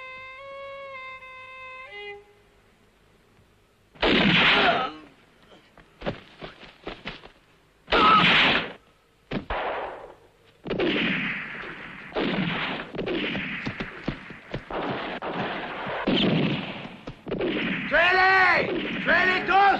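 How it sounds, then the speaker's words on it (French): In a western film, a loud explosion erupts after a fuse is lit, followed by a series of heavy booms and bursts of gunfire, with shouting voices mixed in toward the end. "Jim, allume la mèche."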